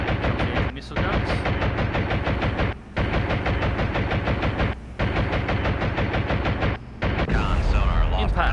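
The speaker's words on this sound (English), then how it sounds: "here comes the anti-missile guns" Anti-missile guns firing in the Cold Waters submarine simulation game: loud, rapid, continuous machine-gun fire in long sustained bursts broken by short gaps, ending in a rumbling burst.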